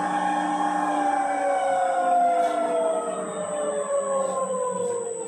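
A cold oil press machine runs with a loud, steady motor whine and layered harmonic tones. The pitch slides gradually downward as the machine slows, and no voices are heard.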